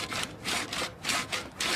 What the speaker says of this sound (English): the sand is now steadily and slowly but surely cutting its way right through the stone